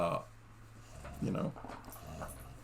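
A dog makes brief, soft whimpering and panting sounds indoors, quiet and close, while someone talks over it.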